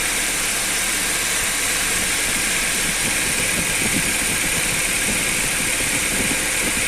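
Audi A4 B5 with a 1.6 petrol engine idling steadily inside a warm garage, a continuous even hum with a faint vibrating rumble underneath, close and alone with no talk.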